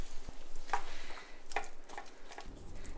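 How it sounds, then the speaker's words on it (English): Soft, close scraping and squishing as tomato sauce ingredients are mashed and stirred in a pan over a low simmer, a few distinct strokes over a quiet background. "So I'm gonna mash all this stuff up."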